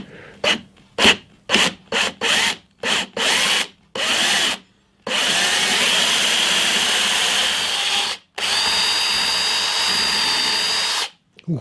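A power drill with a new bit bores holes through a hinge in a workshop guitar build, whirring in a series of short loud bursts that give way to one long sustained run, then a final burst, close up with no talk.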